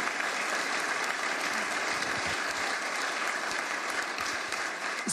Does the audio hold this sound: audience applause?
yes